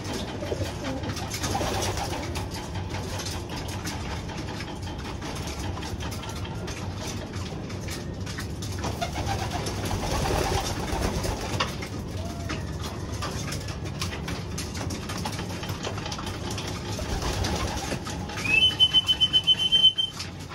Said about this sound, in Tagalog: napakain ko na itong mga ibon